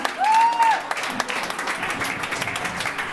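Crowd applause greets a rock band at the Vicenza Rock Contest, a steady wash of clapping under a brief feedback-like tone and a few louder claps, moderately distant.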